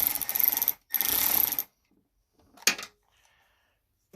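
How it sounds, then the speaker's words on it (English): A ratchet tightening a headlight screw on a Saab 9-3 Viggen during an LED headlight upgrade: two quick bursts of rapid clicking close by, then a short pause and a single sharp clunk, with no talking. "So we'll tighten her down a little bit."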